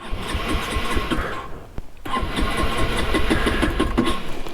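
A motorcycle engine that will not start after riding in rain, with water getting into the motor: a loud, close, rough cranking and sputtering that cuts out briefly, then returns as an uneven running drone.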